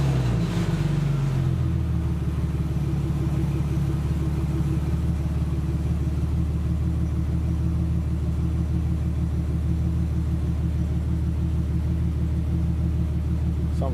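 A heavily modified 600 hp Lexus SC300 engine cranks and fires up, then settles into a loud, steady, lumpy idle that carries on alone without pause.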